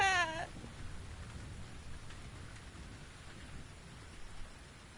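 Steady rain falls in the video game The Invisible Hours, a dense hiss of drops on surfaces with a low rumble beneath, opening with a brief high cry-like sound before the downpour continues evenly.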